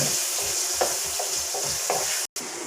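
Jackfruit sautéing in ghee in a pan, a steady close sizzle with rhythmic stirring scrapes and a momentary cutout near the end.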